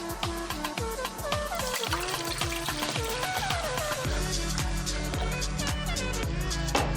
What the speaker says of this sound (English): I'm going to add in our water.